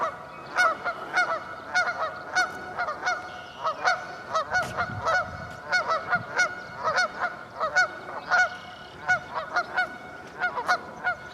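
A flock of geese at a lake keeps honking, a busy overlapping stream of brassy calls at a fairly even pace, mid-distance, without voices.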